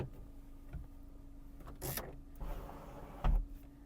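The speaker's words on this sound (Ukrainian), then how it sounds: "Люк закривається за потреби." The electric sunroof of a Skoda Fabia 1.4 MPI closing, a faint motor whir with a few soft mechanical clunks and a louder thud near the end, heard alone inside the car.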